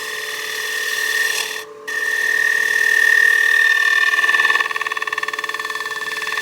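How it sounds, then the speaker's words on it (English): A lathe gouge cuts a wooden cake stand with the bevel pressed too hard, making a continuous close high-pitched whining squeal that breaks off briefly and then comes back, turning into a rapid fluttering chatter toward the end. "Pushing on the bevel a little too hard. You can hear that noise."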